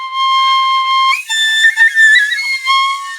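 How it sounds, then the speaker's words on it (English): A plastic tin whistle plays a short, bright jazz-style melody alone, with clear sustained notes and quick bending runs, close and fairly loud. "I'm doing my jazz version of the tin whistle"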